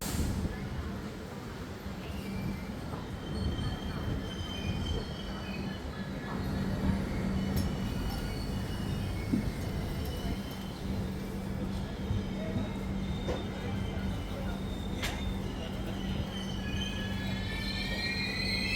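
Mumbai Indore Duronto Express 3AC coach running at night, with a steady low rumble of wheels on rail, faint high squeals and occasional clicks throughout, close and continuous.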